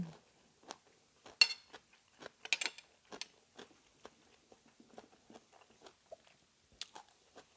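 Someone eats spicy cucumber salad with shrimp and rice, producing close, quiet crunching bites and wet chewing in irregular clusters, with faint clinks of utensils.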